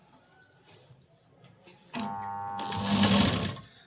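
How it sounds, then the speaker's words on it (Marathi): A sewing machine runs a stitching pass along a fabric seam during garment fitting work, a loud steady mechanical whir that starts abruptly and builds in intensity, preceded by quieter handling sounds. "सेंटरला या पद्धतीने स्टिच करत करत यायचं."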